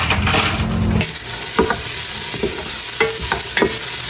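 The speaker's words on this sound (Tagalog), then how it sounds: "At magigisa na po tayo ng bawang, sibuyas at luya." Garlic, onion and ginger sizzle and fry in a heated pressure cooker, a loud steady hiss with repeated stirring scrapes and clinks of a utensil against the metal pot.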